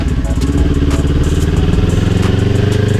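A motorcycle runs steadily at about 15 mph in second gear, its engine a loud, even, throbbing drone heard up close for the whole stretch, with no talking.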